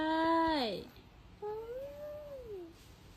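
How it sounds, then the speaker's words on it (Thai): A cat gives two meows close by: first a loud, falling cry, then after a short pause a longer, softer, wavering meow. "ดูวาวาดิ แมวใช่"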